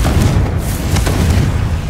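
A Confringo spell explosion in the Hogwarts Legacy video game on PS5, a loud booming blast with a rumbling low roar that holds for about two seconds.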